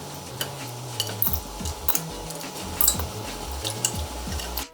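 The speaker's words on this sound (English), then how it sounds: "I'll add the rinsed fish to my pot." Rinsed catfish pieces going into a shallow pot, with soft wet squishing, light scraping and a few faint clinks against the pot, quiet and close with no speech.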